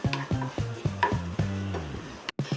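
Onions and curry leaves fry in hot oil in a pan as a spoon stirs them in repeated scraping strokes, close and fairly loud over a steady sizzle.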